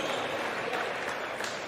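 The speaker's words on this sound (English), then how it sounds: "as they receive a big applause from the crowd" A crowd at a varsity high school basketball game applauds as substitutes check in, a dense, steady wash of clapping filling the gym from start to end with a faint voice beneath.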